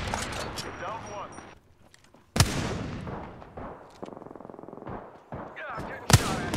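Gunfire in Apex Legends Season 9, a few sharp loud bursts separated by quieter stretches, with a run of rapid evenly spaced shots in the middle and a voice talking over parts of it.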